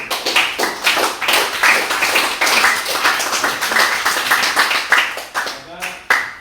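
A classroom of students claps hands together after a religious studies lesson, a dense run of overlapping claps with a steady rhythm, fairly near and loud, fading toward the end with a final burst.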